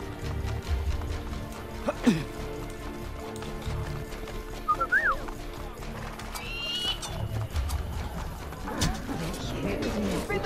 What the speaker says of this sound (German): die rennen mit ihren Pferden einfach rein